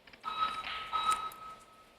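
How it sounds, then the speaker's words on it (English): A casino fire alarm during a system test gives off a sustained electronic tone with pulsing bursts over a dull room hum, moderately loud and slightly distant, with no one speaking over it. "Thought they were done testing the alarm system and they got right back to it."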